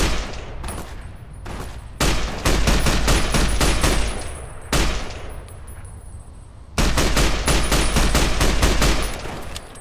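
Rapid gunfire bursts from a shootout against enemies in Fallout: New Vegas, Lonesome Road, crackling in dense volleys with brief lulls between them, loud and close throughout with no talking.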